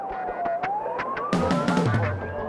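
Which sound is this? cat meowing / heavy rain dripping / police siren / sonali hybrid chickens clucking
police siren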